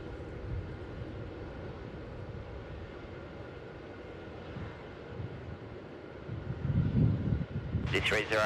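An airliner coming in to land at Melbourne Airport: a distant, wind-buffeted roar that swells toward the end, where a brief voice cuts in.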